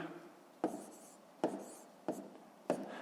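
A pen writing numbers on paper while solving a decimal-fraction math exercise, four short scratchy strokes spaced apart, close and quiet.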